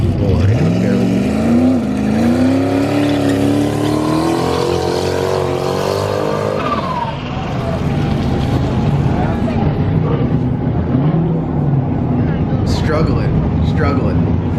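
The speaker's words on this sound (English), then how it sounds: "You do your burnout on the floor." A turbocharged 427 car running E85 roars through a burnout, its engine pitch climbing steadily for several seconds, then settling into a rough loud drone, with a voice talking over it.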